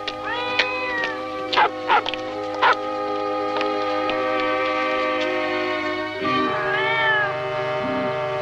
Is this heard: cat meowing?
yes